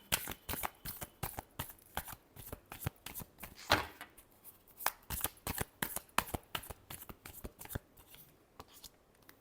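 Tarot cards are shuffled by hand in a rapid run of crisp riffling snaps and flicks, close and fairly quiet, repeating steadily for the whole stretch with no talk.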